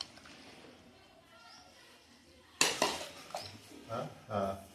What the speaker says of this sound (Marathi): आपण या बातोडीच्या मदतीने सगळे एकत्र करूयात